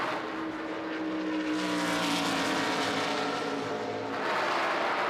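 NASCAR stock cars racing at Rockingham in 1999, a loud, steady engine roar with a passing car's pitch rising and falling, the pack sustained close by for the whole stretch.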